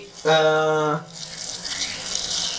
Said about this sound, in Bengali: জলটা ফুটতে শুরু করে দিয়েছে